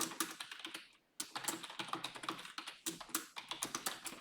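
Rapid keystrokes on a computer keyboard during spreadsheet data entry, close and clear, in quick bursts with one short pause near the start.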